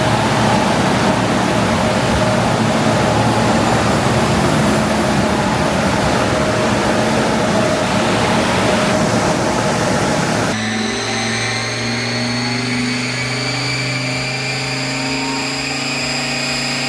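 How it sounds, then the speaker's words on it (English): A car engine roars at high revs on a dyno, loud and sustained, then drops to a rising, droning rev with clear tonal whine. "it's about to get really noisy in here because Jonathan's got this thing on the dyno"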